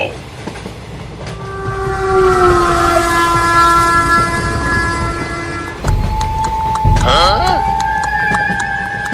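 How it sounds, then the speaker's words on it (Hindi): A train rumbles and slows in a jungle setting, its rolling noise building and then easing, with a sustained horn-like tone and, near the end, sharper squealing and clattering as it comes to a stop. "ये ट्रेन तो इस जंगल में रुकने लगी"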